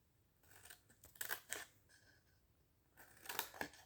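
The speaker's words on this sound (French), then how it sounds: "je coupe en biais" Scissors snipping diagonally through paper or card for a homemade Advent calendar box, a few quiet close cuts in short clusters with pauses between them.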